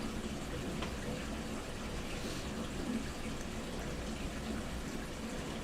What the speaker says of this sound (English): Sounds like my wife's starting up the washing machine here.